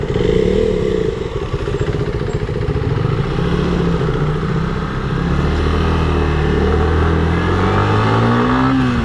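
A Yamaha MT15 motorcycle accelerates in a loud, close ride recording, its engine note climbing steadily through revs with wind rush around it.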